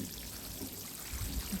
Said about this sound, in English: put the watering can now. And give it a bit of water.